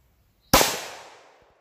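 A single sharp gunshot from a Smith & Wesson M&P 5.7 pistol firing 40-grain 5.7 ammunition cracks loudly after a moment of quiet, then its echo decays over about a second outdoors.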